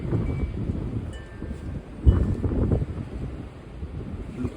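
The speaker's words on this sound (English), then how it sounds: "now we're getting windy conditions" Strong wind blows outdoors on a windy day after heavy downpours, a loud, gusting rumble buffeting the microphone with a sharp thump partway through and no voices.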